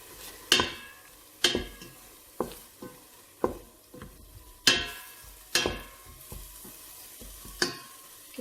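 Ground spice paste for beef kalio sautéing in a pan, with repeated sharp stirring scrapes of a utensil against the pan roughly once a second over a low steady sizzle, close and fairly loud.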